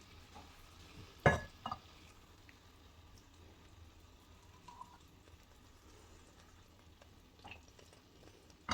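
Quiet, steady sizzling of peppers frying in oil, with a couple of sharp clinks of a utensil early on and faint crackles throughout.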